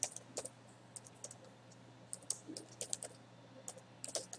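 Keys clatter on a computer keyboard in short irregular bursts of crisp clicks, close and quiet, over a low steady hum with no voices.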